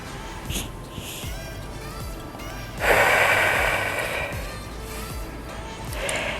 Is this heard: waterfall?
no